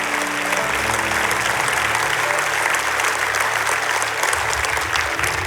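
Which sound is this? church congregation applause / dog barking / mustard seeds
church congregation applause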